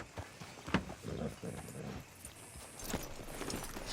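Horse hooves clop in Red Dead Redemption 2, faint and uneven steps with a low murmur of voices underneath.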